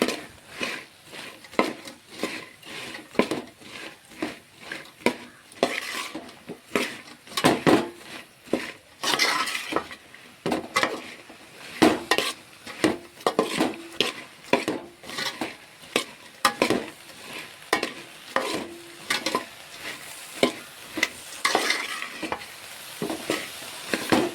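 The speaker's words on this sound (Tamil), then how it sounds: "இப்போ இதை மிக்ஸ் பண்ணிடலாம்" A spoon scrapes and clatters against a pan as seafood is stirred with chicken masala powder, giving a long run of irregular metallic knocks and scrapes over a soft sizzle, close and with no voices.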